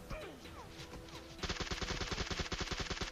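Gunfire in the mobile game PUBG Mobile: a few scattered shots at first, then a loud, fast burst of automatic fire with evenly spaced cracks lasting to the end.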